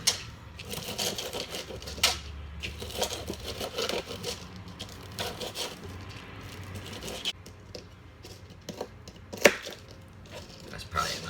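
Knife chopping bacon slices into pieces on a cutting board for a breakfast pizza, a steady run of fairly close taps and thuds with a few sharper knocks, heard alone without talk.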